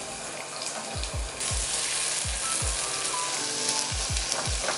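Onion and garlic sizzle steadily in hot oil left over from frying mushrooms, with a bright, constant crackle close by and a series of soft, low thumps as the pan is stirred.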